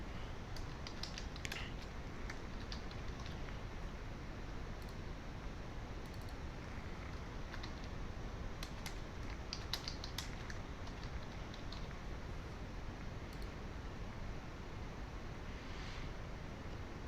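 Computer keyboard typing, light scattered keystrokes in irregular bursts, close but soft beneath a steady broadband hiss and rumble of background noise.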